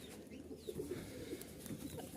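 Rajshahi colour-matched Giribaj pigeons coo softly in a short, faint run of low, throaty calls.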